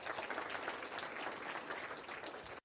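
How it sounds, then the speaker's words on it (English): Steady crowd applause at a graduation ceremony, dense continuous clapping from many hands that holds evenly before stopping abruptly. "another round of applause,"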